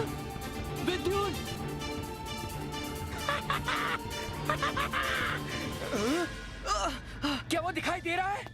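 A bird caws in the 2011 animated Hindi mythological movie Tripura, with harsh cries woven through tense dramatic scoring while characters talk.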